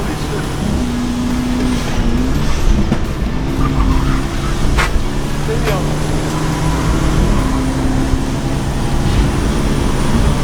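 A Mercedes W124 on a race track with its turbo charge pipe off and boost lost, its engine droning loudly with rising and falling pitch as it drives, while people talk over it.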